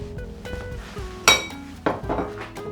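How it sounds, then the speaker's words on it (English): A spoon clinks against a pot while red split lentil curry mixture is stirred, giving several sharp metallic taps amid softer scraping, close and fairly loud. "We're going to give that a nice mix now."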